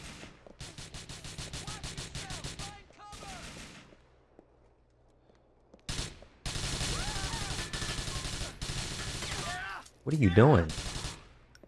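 Rapid bursts of automatic gunfire in Grand Theft Auto 4, with a long rattling string early on, a pause, then heavier sustained firing and loud shots near the end, and a voice speaking briefly.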